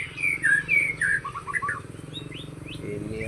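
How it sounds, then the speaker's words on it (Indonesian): A kacer (magpie-robin) songbird sings at a TKBC bird-song contest arena. It delivers bright, repeated whistled phrases and chirps close by, over a steady background crowd murmur. Other birds call faintly, and the clip holds no clear speech. "Itu ada Tommy Hantu Kacer."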